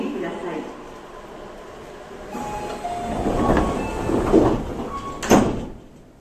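Doors of a Tobu 30000 series train with Hitachi IGBT drive slide shut on the Tobu Tojo Line, with a loud thud near the end over the rising rumble and clatter of the car, after a recorded voice announcement.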